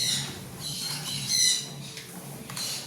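A bird at home gives repeated harsh, raspy squawks, fairly close and moderately loud, over a quiet background with no talking.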